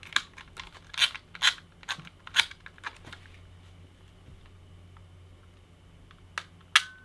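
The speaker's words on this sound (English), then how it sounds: "A compact flash camera sounds like this." A compact flash camera's shutter fires in a series of sharp, dry clicks, close and fairly quiet with short gaps between them, then a pause and two more clicks near the end.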